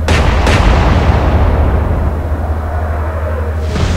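Naval gunfire in the Atlantic Fleet game, heavy ship's guns firing high explosive shells in a loud booming blast with a rolling rumble that slowly decays, then a second sharp report near the end.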